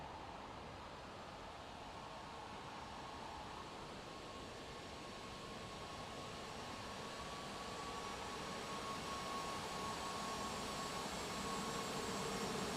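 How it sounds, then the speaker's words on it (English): Steady jet engine whine of a Boeing 737-600 taxiing in X-Plane 11, a continuous broadband rumble with a faint tonal hum that swells gently louder over the stretch, no voices. "Let's do a little taxi by here for this beautiful little aircraft."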